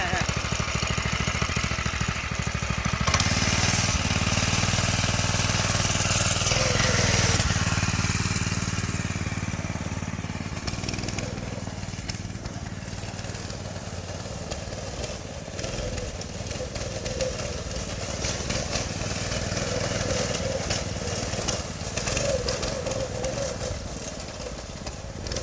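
A go kart powered by a Predator 212 engine drives around a yard, its small engine buzzing steadily and loud at first, then easing somewhat as it moves off, with occasional voices in the background.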